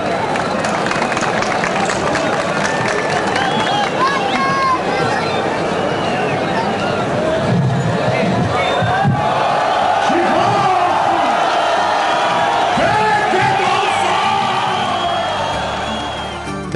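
Large festival crowd gathered at the Sultan Mosque in Manisa during the Mesir paste distribution, a dense continuous roar of voices, shouts and whoops that stays loud throughout with cheering swelling near the middle.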